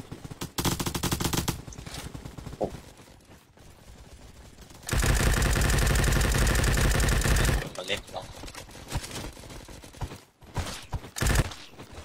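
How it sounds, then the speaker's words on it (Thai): In a Roblox game, bullets strike the ground in fast, dense bursts of rapid gunfire-like impacts, with one long sustained barrage in the middle and people talking in between. "เสียงกระสุนกระทบพื้นไง"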